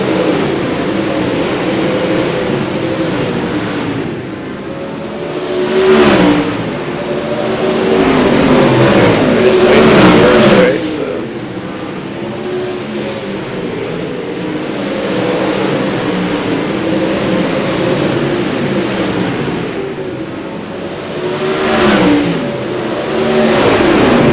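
Evolution Pro Late Model race cars roar around an oval track in a feature race, their loud engines rising and falling continuously as the packed field passes close by, with several louder surges as cars go by.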